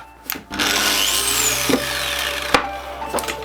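A counterfeit DeWalt DWE4057 angle grinder with no soft start whines up sharply to a steady high-pitched running tone, with a few knocks and clicks along the way.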